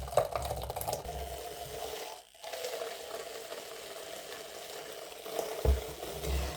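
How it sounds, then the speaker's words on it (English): Makeup brush cleaner machine spinning a brush in its bowl, a steady whirring, swishing churn with a brief dip midway, low and continuous throughout. "I'm going to put it inside the bowl. So you can see here. Here's the bowl. And I'm going to start swirling it"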